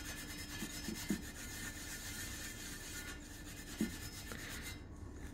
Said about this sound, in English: Just turn the cloth over now and buff all that off.